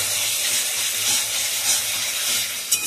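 Meat sizzles steadily in a pan as it is sautéed for kosha, a continuous bright hiss with no break.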